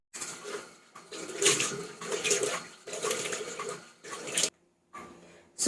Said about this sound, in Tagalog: kailangan na natin maghilamos kasi 20 minutes na ang nakalipas.